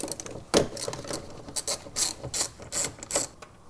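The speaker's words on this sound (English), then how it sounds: "we'll just undo this bolt" A 10 mm socket ratchet clicks in short bursts while a bolt is undone in the engine bay of a fifth-generation Toyota 4Runner, several quick close ratcheting strokes separated by brief pauses.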